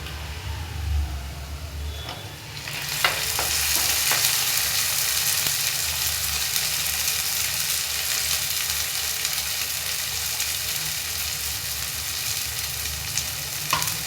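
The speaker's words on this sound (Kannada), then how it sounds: "ಈಗ ನೋಡಿ, 2 ಟೊಮೆಟೊನ ನಾನಿಲ್ಲಿ ಪ್ಯೂರಿ ಮಾಡ್ಕೊಂಡಿದ್ದೀನಿ. ಇದನ್ನ ಇವಾಗ ನಾನೀಗ ಹಾಕ್ತಾ ಇದ್ದೀನಿ." Tomato puree poured into onions frying in a pan for egg bhurji, a sudden loud sizzle that jumps up after a quieter fry and holds as a dense steady crackle with faint stirring.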